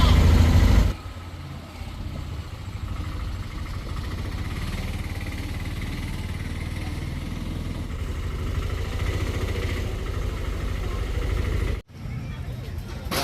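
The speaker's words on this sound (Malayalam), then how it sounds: "നമ്മൾ ഓട്ടോയിലാണ് സഞ്ചരിക്കുന്നത്" An auto-rickshaw's engine hums and rattles steadily while riding, a continuous mid-level drone with road noise and voices talking over it, briefly cutting out near the end.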